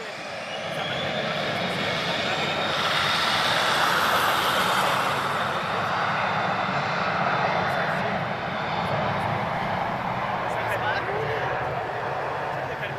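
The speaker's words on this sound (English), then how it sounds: "So guys, that's the first takeoff." An airplane takes off at Lisbon Airport, a broad sustained engine roar that swells and holds steady at a moderate distance, with no talking during the run.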